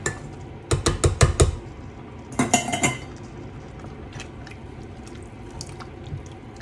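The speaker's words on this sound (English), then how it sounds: "Let's get the chickpeas in." Chickpeas tipped into a curry pan: a quick burst of clattering clinks and knocks against metal, a second rattling pour, then quiet low simmering.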